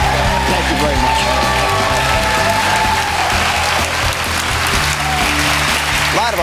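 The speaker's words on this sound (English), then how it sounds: "A lot of applause." A large audience applauds and cheers as Vice President Dick Cheney is welcomed on stage, a loud, continuous wash of clapping with a steady hum and tones underneath.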